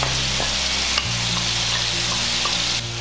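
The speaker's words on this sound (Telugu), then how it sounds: "ఆయిల్ కొంచెం వేడెక్కిన తర్వాత మనం మ్యారినేట్ చేసి పెట్టుకున్న ప్రాన్స్ వేసుకోవాలి" Marinated prawns frying in hot oil in a pan, a loud, continuous close sizzle with a low steady hum underneath and no voices.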